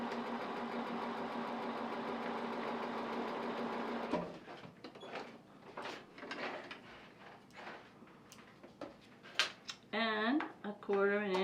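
A sewing machine stitches a quarter-inch seam on quilting triangle squares, running at a steady close whir for about four seconds before stopping. Soft handling clicks and fabric rustles follow.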